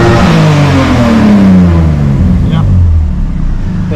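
A Porsche 924 engine revs up hard and close, its pitch sweeping downward as it winds back toward idle, loud and continuous throughout.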